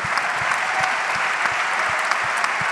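An audience applauds at an academic event honoring the Nelson Mandela Foundation, dense steady clapping from many hands filling the room, loud and continuous throughout.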